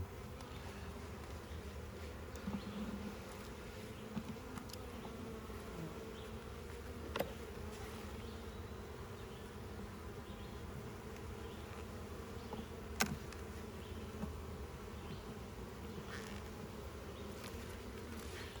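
Honey bees buzz from an opened beehive in a steady, soft, continuous hum, with occasional faint clicks and taps from handling the frames.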